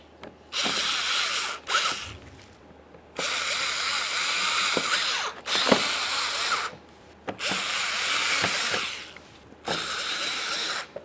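Power tool driving 7mm bolts across the front of a 2013-2020 Ford Fusion bumper cover, with four loud whirring bursts of a few seconds each separated by short pauses and clicks.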